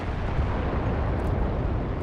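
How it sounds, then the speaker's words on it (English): A Type 93/97 mini grenade detonating in the shooter Enlisted, a dense, heavy blast rumble that fills the short moment with a continuous loud roar. "Oh, it's just a Type 93. Or 97 mini grenade."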